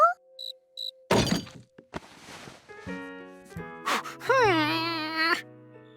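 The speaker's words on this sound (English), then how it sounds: "a tiny insect that couldn't possibly make such a big sound" A cricket in the Curious George cartoon chirping in short, bright, warbling bursts, mixed with cartoon sound effects, rising whistles and swells of music.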